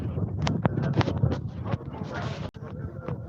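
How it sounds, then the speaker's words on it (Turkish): Strong gusts of wind buffet the microphone in loud, rumbling bursts, with a faint voice partly buried underneath, outdoors in a town square park in Malazgirt, Turkey. "Şiddetli bir rüzgar var."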